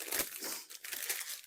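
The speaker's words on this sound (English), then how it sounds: "Take out the wax paper. I mean, it's not wax. The parchment paper." Parchment paper crinkled and peeled away from sticky homemade gumdrop nougat candy, a close, quiet run of crisp crumpling and tearing bursts with short pauses between them.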